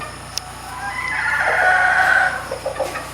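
A radio straightcomb gamefowl rooster crows once, a single drawn-out call rising and holding before trailing off, close and fairly loud over quiet outdoor background with a brief tick early on.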